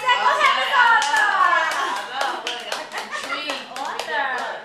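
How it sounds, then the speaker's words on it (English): Studio audience applause on a radio show, a loud burst of clapping with cheers and chatter mixed in, gradually thinning out. "round of applause for that."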